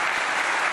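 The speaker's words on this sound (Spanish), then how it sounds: "un aplauso para ella" Crowd applause, loud and dense, in a brief continuous burst during a political talk event.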